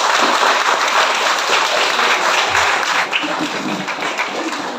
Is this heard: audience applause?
yes